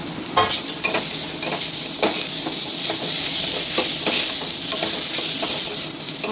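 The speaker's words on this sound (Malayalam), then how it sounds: "അപ്പോൾ നമുക്ക് കുറച്ച് തക്കാളി ചെറുതായിട്ട് അരിഞ്ഞത് നമുക്ക് ഇതിനകത്തോട്ട് ഇട്ട് കൊടുക്കും." Finely chopped tomatoes sizzling in a frying pan for an egg curry, a steady bright hiss with regular scraping stirs of a spoon close by and no talking.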